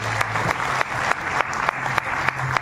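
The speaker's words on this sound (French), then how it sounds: "Merci de les applaudir." An audience claps steadily and enthusiastically, a dense patter of many hands with a few sharper claps standing out, no voices over it.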